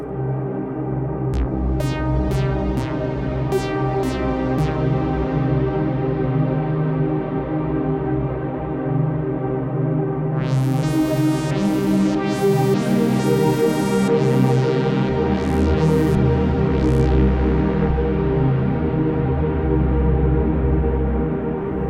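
Sustained, dense modular synthesizer drone through a TipTop Audio Z DSP reverb module running Halls of Valhalla, swelling with washy reverb tails, sharp pinging clicks early on and later bursts of bright shimmering noise over a steady low throb.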